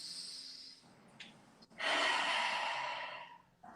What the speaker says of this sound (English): Now I'm making a roaring sound.